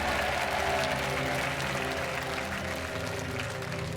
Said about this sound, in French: repartez sous les applaudissements du public